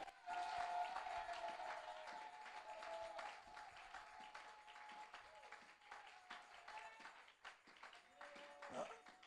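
Congregation clapping and cheering in church, a dense, lively wash of applause and voices that stays strong throughout, with a sustained tone and shouts mixed into the crowd.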